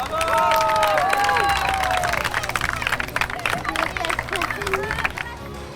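At a school Olympiad, an audience claps steadily and loudly for the green team, a continuous wash of applause with scattered cheers and a voice speaking over it near the start.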